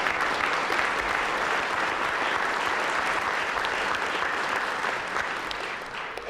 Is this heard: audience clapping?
yes